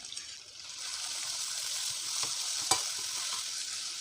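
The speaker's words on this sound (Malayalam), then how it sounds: "ഒരു അര കപ്പ് പച്ചമുളക് അരിഞ്ഞെടുത്തത് ഇവെല്ലാം ചേർത്ത് നന്നായി വഴറ്റി കൊടുക്കാം" Chopped ginger and green chillies sauté in a pan with a soft, steady sizzle and two sharp utensil clinks partway through, heard close with no talking.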